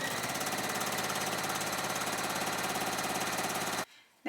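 A sewing machine stitches a quarter-inch seam on fabric, running in a fast, steady mechanical chatter for several seconds before stopping abruptly, then a short burst of motor noise at the very end.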